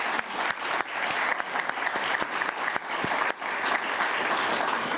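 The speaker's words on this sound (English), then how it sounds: "first a thank you and applause to him" A lecture audience at an oral health program breaks into thick, sustained applause, an even wash of many hands clapping throughout with only brief dips in intensity.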